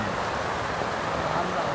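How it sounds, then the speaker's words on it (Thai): Rain falls steadily at night near a reservoir campsite, a dense even hiss of drops on surfaces with no break, filling the whole moment. "ฝนตกไงไม่รู้"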